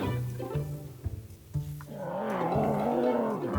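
A lion, white lions nearby, lets out low rumbling roars and groans, close and loud, several short grunting pulses followed by a longer sustained roar.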